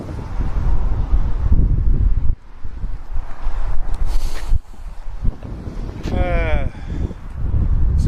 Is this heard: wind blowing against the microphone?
yes